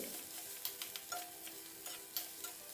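Grated coconut being stirred into simmering brinjal gravy in a pan: soft scraping strokes and light ticking taps of a spoon against the pan over a faint sizzle, close and quiet.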